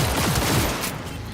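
Shotgun fire in the video game Cyberpunk 2077: a dense, loud blast of gunfire with overlapping booms, tailing off into a rumbling decay within about a second.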